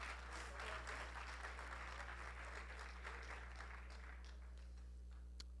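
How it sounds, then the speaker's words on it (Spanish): Audience applause at a conference talk on republic versus populism, a dense steady clapping that slowly thins and fades out over several seconds. "Ahora sí aplaudan"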